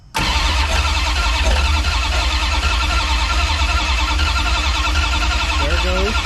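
A 1969 Plymouth engine, freshly swapped in, cranks and catches into a loud, steady running roar right from the start, close by, with voices faintly in the background.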